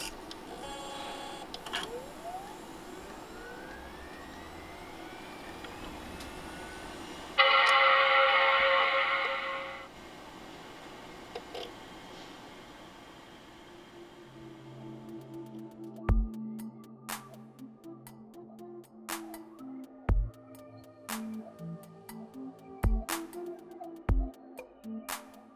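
An Apple Mac Pro 1,1 from 2006 powers on: a steady fan whir, a brief loud rushing surge of fans spinning up, then quieter hum with scattered clicks and ticks of drives settling.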